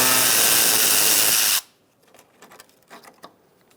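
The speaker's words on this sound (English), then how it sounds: "Using an 8mm socket, you're going to undo this bolt." A power tool drives an 8mm socket to undo a front bumper bolt on a 2000–2007 Ford Taurus: a loud, close, steady whir for about a second and a half, then it stops, leaving faint scattered clicks and handling noises.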